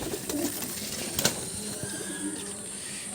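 Andhra pigeons, brought from Andhra Pradesh, coo softly inside a loft: low, murmuring calls over a steady background hum, with no talking.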